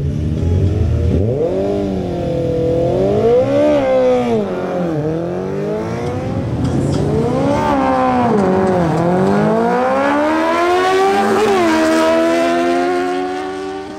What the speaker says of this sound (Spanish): Ahora, Javier Lascano, en su Honda CB650R, realiza una nueva pasada.